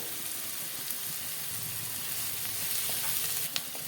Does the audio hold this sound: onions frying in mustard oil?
yes